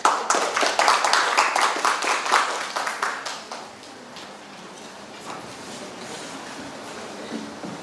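An audience at an economic dialogue event breaks into a short burst of brisk clapping that thins out after about three seconds, leaving a quiet room with scattered faint taps.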